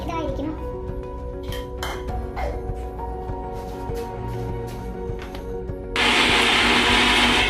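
Mixer grinder jar blending garlic, ginger and green chillies for egg curry; after a stretch of voices and kitchen clatter, a loud, steady whirring roar kicks in near the end and holds to the close.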